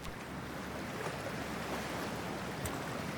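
Cold water rushes and churns in an underwater dive in Cyberpunk 2077, a dense, steady wash of noise like surf with no voices.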